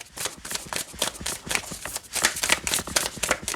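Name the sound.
shuffling a deck of tarot cards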